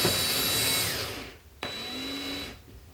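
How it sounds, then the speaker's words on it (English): An electric screwdriver whirs steadily as it drives a screw into a tinplate model railway track tie, stopping briefly with a sharp click before a second whining run that winds down. "put the screwdriver in forward."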